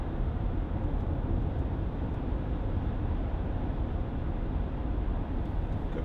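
A 2012 Volkswagen Touareg 3.0 TDI V6 accelerating smoothly, heard from inside as a steady low engine and road rumble, even and continuous with no talking.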